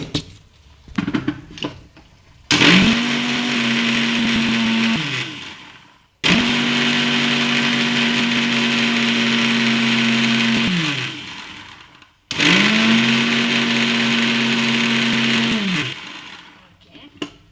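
Mixer grinder grinding a paste for a drumstick (murungakkai) poriyal, running in three loud bursts of a few seconds each with brief stops between, its motor whine steady then winding down each time, after a few light handling knocks.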